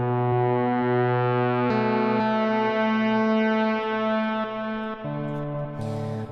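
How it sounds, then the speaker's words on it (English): A synthesizer waveform run through a harsh wave folder distortion module makes a sustained, buzzy, overtone-rich tone. The pitch and timbre shift in a few abrupt steps, and it plays steadily and loud with no talking. "It's a really harsh distortion module."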